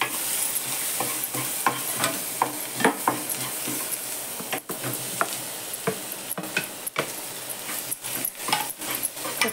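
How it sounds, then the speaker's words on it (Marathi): Crushed garlic, ginger and chili sautéed with curry leaves and turmeric in a pan, a steady sizzle with frequent spoon stirs and scrapes, close and fairly loud, no talking. "हे लसूण, आलं, मिरची कुटून घेतलेली होती, कढीपत्ता आणि हळद घालून परतून घेते।"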